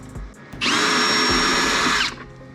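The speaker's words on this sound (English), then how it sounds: "Okay, you want to back off these screws that start about here." A power drill backs a fender well screw out of a Ford F-150, one loud steady whir of about a second and a half after a few soft clicks, alone and close.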